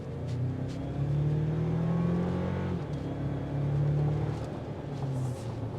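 Engine and exhaust note of a 2025 Toyota Tacoma i-Force pickup accelerating, a steady low drone with rising and falling harmonic bands heard from inside the cab, loud and continuous with no talk.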